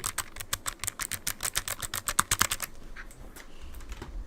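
Rapid typing on a Logitech G913 TKL low-profile keyboard with black switches, a close, steady run of crisp clicking keystrokes that thins out toward the end, with no one talking.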